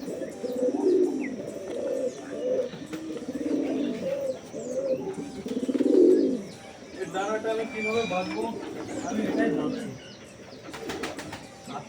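Madras pigeons cooing at home in the morning: a close, repeated series of soft, throaty coos in an uneven rhythm, rising and falling, with lighter rustles and clicks near the end.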